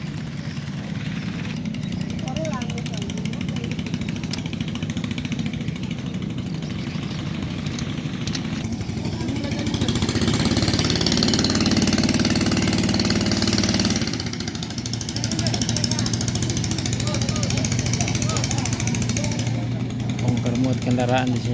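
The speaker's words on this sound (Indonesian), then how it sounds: "Kapal penyeberangan" A ferry carrying cars across the flooded Mahakam River at Melak, East Kalimantan, runs its engine with a steady, rattling diesel chug throughout, growing louder midway, while people talk over it.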